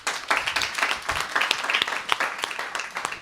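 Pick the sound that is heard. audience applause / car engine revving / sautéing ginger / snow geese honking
audience applause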